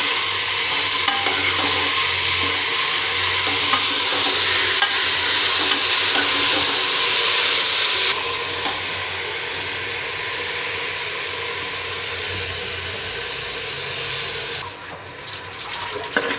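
Lentils stirred into a hot tempering in a pan while preparing bele saaru, giving a steady, close, loud sizzle with scraping stir sounds that eases slightly partway through.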